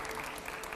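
Studio audience applause at a televised political interview, a short burst of dense clapping with a faint murmur.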